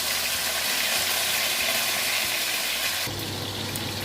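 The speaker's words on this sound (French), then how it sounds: "Je vais faire revenir ici 300 g de crevettes." About 300 grams of shrimp sautéing in hot vegetable oil, a loud continuous sizzle that holds steady, then brightens as more sputtering sets in near the end.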